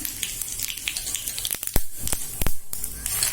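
Hot oil sizzles and crackles as tempering spices hit the pan for dal, with a few sharp spits and pops rising over the steady hiss.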